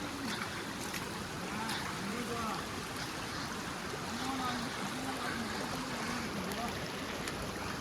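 Continuous quiet rushing of flowing water, an even, unbroken burble with faint tonal sounds drifting over it.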